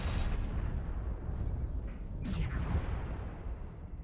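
An ultra autocannon fires on a Bushwacker mech in a mech combat video game, a dense, steady barrage of heavy booming shots blurring into a continuous loud rumble with a sharper burst near the middle.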